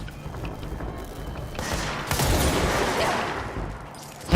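Gunfire in the video game Control, a dense rattling fusillade that builds to a loud sustained burst in the middle and then eases off, with no talking over it.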